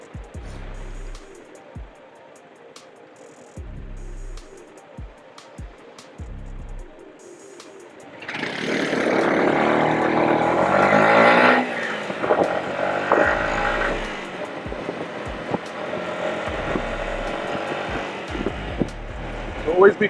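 A Yamaha YZF R125 motorcycle rides through traffic in an old street, its engine running steadily and close by, rising into a loud, broad surge of engine and wind noise midway that stays heavy until the end.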